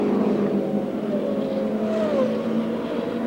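Indy race cars on the track at Phoenix in 1978 make a steady, loud engine drone with a rising whine as one car passes a slower one, continuous throughout with no talk.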